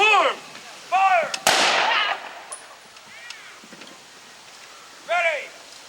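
A rifle volley at an outdoor Veterans Day ceremony cracks out as one loud, sharp blast. Shouted commands come before and after it, over light wind.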